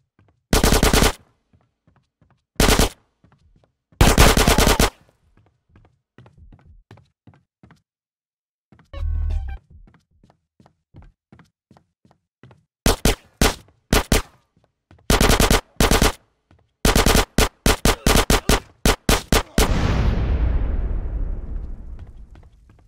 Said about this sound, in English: I shoot you in your face.